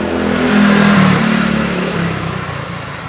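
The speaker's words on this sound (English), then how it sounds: "Oh, bike." On a Bangkok Chinatown street, a motorbike passes close by with a loud, rising then fading engine buzz that dominates the moment.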